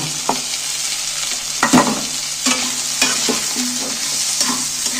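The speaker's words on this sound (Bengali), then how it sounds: "এইগুলোকে একটু নাড়তে থাকবো।" Shredded cabbage, onion and chopped green chili for chicken momo filling are stirred in a hot pan with a spoon that scrapes and knocks, over a constant close sizzle.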